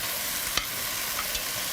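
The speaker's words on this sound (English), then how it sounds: "Listen to that sizzle." Brussels sprouts and quinoa frying with soy sauce and ginger in a hot pan give a steady, loud sizzle, with a couple of faint clinks from stirring and no talking.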